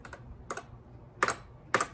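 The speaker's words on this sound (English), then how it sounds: "I'm pressing the arrow keys." Arrow keys on a Macintosh 512K keyboard are pressed in sharp isolated clicks, some doubled, five or six taps with gaps between them, close and crisp.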